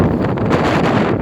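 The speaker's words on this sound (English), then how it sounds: "you can hear the wind starting to gust in the background as we came around that corner" Wind gusts loudly outdoors at the start of a snow storm, a dense, steady roar buffeting the microphone with no voices.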